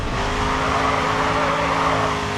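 Race car drifting around Indianapolis in GRID 2, a loud steady engine drone with sustained tire squeal, close and continuous, with no talk.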